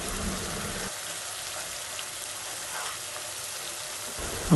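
Spices sizzle and fry in a pan for an egg dish, a steady hiss with soft stirring that stays quiet and even before a sharper clank at the end.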